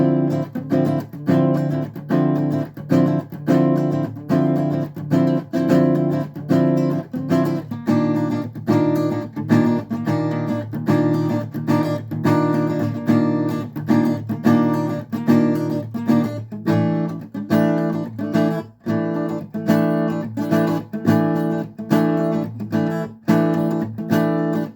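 Four chords from a song in standard tuning are strummed on a guitar, repeated in a steady rhythmic cycle for about 25 seconds, close and clear with no talking.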